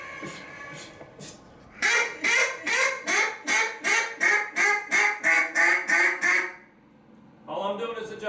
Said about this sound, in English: every time you do a quack